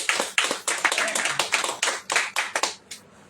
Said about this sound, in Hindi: ताली बजा दीजिए इस चीज के लिए।